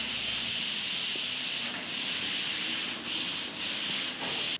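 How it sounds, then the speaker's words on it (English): Dried drywall joint compound being sanded smooth, a continuous loud abrasive hiss with brief dips as the sanding strokes change, no voices. "Each coat must dry, then at the end be sanded and smoothed so that it's ready for primer."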